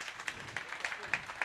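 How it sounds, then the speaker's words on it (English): Audience applause at a national assembly gathering, a quiet, steady patter of many hands with a few sharper claps standing out, heard from a distance at low level. "He deserves a bigger round of applause"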